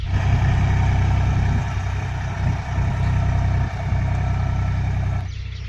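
A farm tractor engine running steadily close by, a loud low chugging idle that holds for several seconds before easing off at the end.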